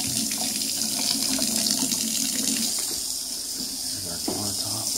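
Water runs steadily from a kitchen tap into a sink, a continuous hissing splash close by, with faint background movement.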